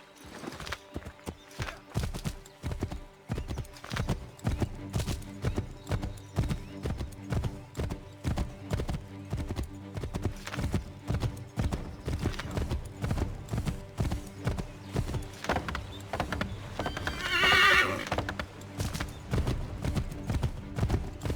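Horse gallops steadily in Assassin's Creed 3 Remastered, a dense run of loud, close hoofbeats, with a single sharp neigh rising briefly near the end over a low music bed.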